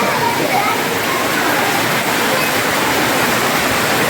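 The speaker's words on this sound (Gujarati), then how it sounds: "બહુ વરસાદ આવે છે" Heavy downpour during a festival fair in Savar Kundla, a dense steady roar of rain hissing continuously and close throughout, with no pauses or distinct drops standing out.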